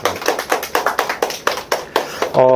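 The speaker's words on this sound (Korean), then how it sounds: "고생하신 친구들한테 박수를 한번" A small audience at a lunch talk clapping after a robot demonstration, a sparse group of hands giving roughly a dozen distinct, close claps in an uneven rhythm before a sudden electronic tone cuts in.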